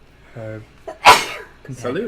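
One loud, abrupt sneeze bursts out close by between stretches of speech, with a voice talking just before and again right after it.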